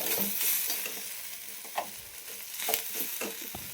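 Ingredients for a country-style goat trotter soup fry in oil, a close, steady sizzle broken by several spatula scrapes and light knocks against the pan, with no talking.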